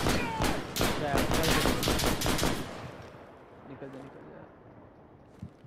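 Rapid automatic gunfire from the video game Insurgency crackles in a loud, dense burst for about three seconds, then fades into a quieter tail with a few scattered distant shots.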